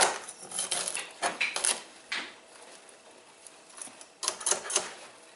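Knife cutting through the soft stem part of broccoli on a cutting board, producing a few clustered clicking knocks and scraping cuts that are close and moderately loud, with a quiet gap in the middle.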